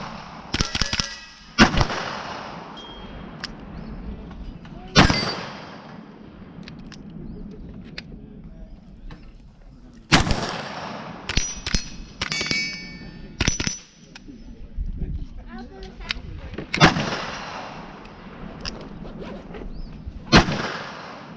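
Gunshots at the Red Hill Range, an outdoor shooting range: about six loud, sharp reports spaced irregularly with ringing metallic clangs after them and scattered quieter bangs between.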